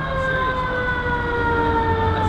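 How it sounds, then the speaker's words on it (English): A fire truck siren wails steadily with a loud, sustained tone, heard close over a rumbling engine and road noise during a motorcycle group ride. "Sirens are gonna be going the entire time in my video."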